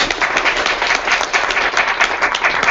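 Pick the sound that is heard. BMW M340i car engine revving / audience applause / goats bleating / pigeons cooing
audience applause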